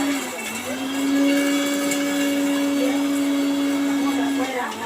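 A kitchen mixer grinder runs steadily with a loud, constant motor whine that rises at the start and winds down at the end, with no talk over it.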